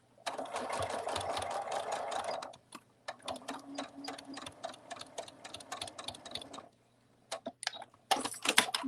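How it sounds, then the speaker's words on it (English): Close sewing machine runs a quick 1/8 inch seam on a fabric cuddle bunny, its rapid needle chatter in several bursts with short pauses and a restart at the end. "we're just going to give that a quick 1/8 inch seam"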